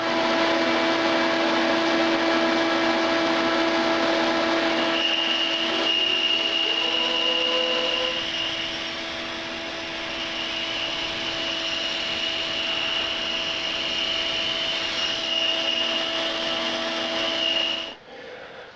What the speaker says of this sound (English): I'm going to do that on my bandsaw